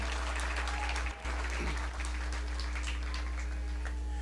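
Steady applause from a crowd at a youth 4-H sheep show continues for several seconds, dense and even, heard from a little distance over a low hum.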